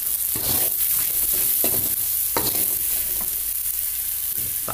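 Chilies frying with palm sugar, salt and seasoning in a pan, a loud continuous sizzle and hiss with repeated close scraping strokes of a spatula stirring through it.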